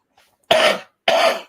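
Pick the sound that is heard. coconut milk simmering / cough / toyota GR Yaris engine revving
cough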